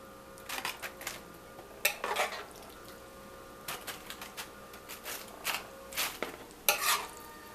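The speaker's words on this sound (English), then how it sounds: "Just spread the ground beef over your chips like so." Ground beef being spread over tortilla chips in a pan for baked nachos, with quiet scraping and tapping of a utensil against the pan in short, irregular bursts.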